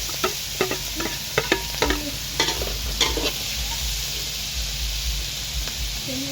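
Cabbage being stir-fried in a hot pan: a steady sizzle with quick scraping, clattering strokes of a utensil in the first few seconds, then a calmer hiss, close and fairly loud.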